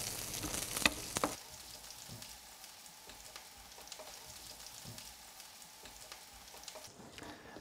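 Prawns fry in a pan with a soft, continuous sizzle, while a utensil stirring them makes occasional scraping knocks; the sound stays fairly faint throughout.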